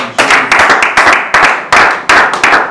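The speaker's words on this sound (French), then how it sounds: "Est-ce qu'on peut acclamer le Seigneur?" A church congregation claps in unison to acclaim the Lord, a loud, steady run of sharp rhythmic claps in a strong beat pattern, with no talking over it.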